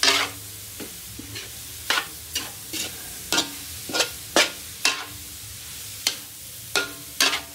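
Santol simmering in coconut milk is stirred in a pan, with a series of distinct scraping strokes at a slow, irregular rhythm over a soft background bubble, fairly quiet and close.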